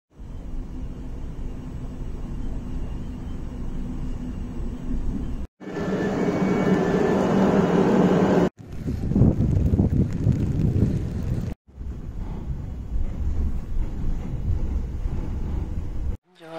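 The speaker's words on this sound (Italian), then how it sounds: "Diluvia, non so se si sente, ma penso di sì" Heavy rain pours down outside during a downpour, a dense continuous rush recorded in several cuts, one section louder and closer with pattering, and no talking over it.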